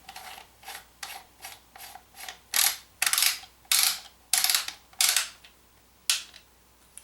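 A foregrip nut is fitted onto a Remington 1187 or 870 shotgun: a series of about a dozen close metallic clicks and rasping turns, some louder than others, with brief pauses between; no voices.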